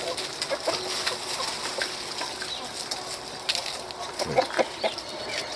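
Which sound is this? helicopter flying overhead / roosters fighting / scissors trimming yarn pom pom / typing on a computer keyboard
roosters fighting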